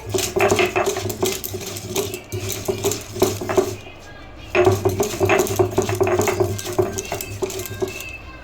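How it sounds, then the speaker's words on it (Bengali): Green chillies, salt and coriander are ground on a stone slab with a stone roller, giving close, rhythmic scraping and knocking strokes that run steadily, with a short pause midway. "দেখতে পাচ্ছ এখানে আমি শিলে পিষে নিচ্ছি"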